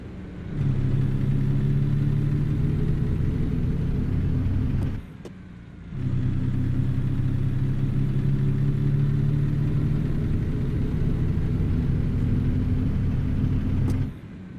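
Truck engine in American Truck Simulator droning at a steady low hum, close and continuous, briefly dropping off twice as if between gears or throttle lifts, then resuming at the same pitch.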